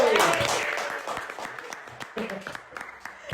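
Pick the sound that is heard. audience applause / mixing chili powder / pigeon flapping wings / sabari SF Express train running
audience applause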